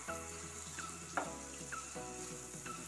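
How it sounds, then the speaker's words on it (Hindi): Moong dal malpua frying in ghee, a soft steady sizzle with faint bubbling and occasional light clinks of a utensil, quiet and close. "अब हम इसे एक साइड से और अच्छे से फ्राई करेंगे।"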